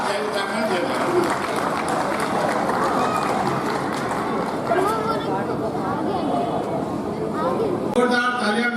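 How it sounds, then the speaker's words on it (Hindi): Loud, sustained audience applause at a Hindi kavi sammelan in Uttarakhand for poet Dhan Singh Mehta Anjaan, a dense wash of clapping and crowd murmur lasting the whole stretch, with voices mixed in. "जोरदार तालियां मेहता जी के लिए"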